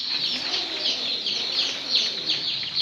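Many Fayoumi chickens fill a rooftop poultry farm in Sylhet's Habiganj area with a steady chorus of overlapping high chirps and clucks. The flock sounds close and busy throughout, with no voices.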